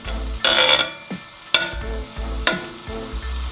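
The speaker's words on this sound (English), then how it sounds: "I'm just gonna allow the turmeric to fry until it's almost burning" Grated turmeric frying in hot oil for an oxtail stew, a steady close sizzle with three sharp bursts of scraping and stirring at regular intervals as the pan is worked.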